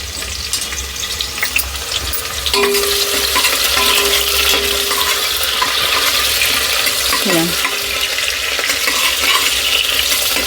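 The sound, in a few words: green chillies frying in a pan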